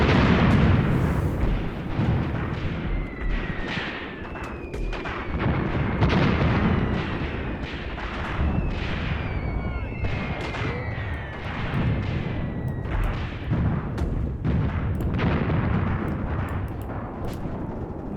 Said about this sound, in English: They are calling in all of that useful artillery on enemy positions.